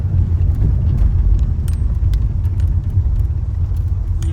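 A car drives along the road to Chidiya Tapu beach, giving a steady low engine rumble and road noise from inside the vehicle with faint clicks and rattles, no talking.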